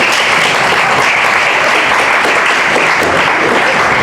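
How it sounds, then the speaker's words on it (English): Women in a seminar audience clap for the men, a loud, dense, continuous burst of applause filling the room with no voices above it. "The women, please clap for the men."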